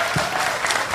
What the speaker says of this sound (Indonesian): Tepuk tangan untuk Mas Dalang